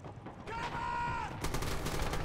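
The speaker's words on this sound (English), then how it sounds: "I shot at him." Gunfire in the Red Orchestra shooter, a quick cluster of close sharp shots with a brief ringing tone and battle clatter, a voice faintly audible among them.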